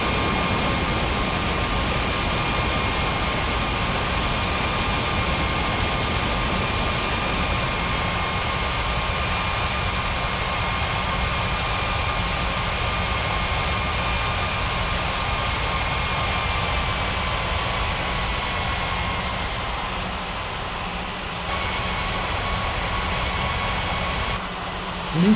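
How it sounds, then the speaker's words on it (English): Airliner jet engines on a runway before takeoff, a steady loud broadband roar with a constant whine, heard continuously for about twenty-five seconds without talk. "Blue Sky 7947 cleared for takeoff runway 18."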